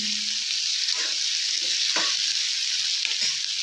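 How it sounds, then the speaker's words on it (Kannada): Tomatoes fry in a pan for a green peas curry, giving a steady, loud, even sizzle that fills the whole stretch, with faint stirring scrapes and no voices. "ಟೊಮೊಟೊ ಮೆತ್ತಗಾಗೋವರೆಗೆ ಬೇಯಿಸೋಣ."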